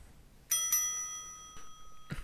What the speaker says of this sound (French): une petite cloche annonça son arrivée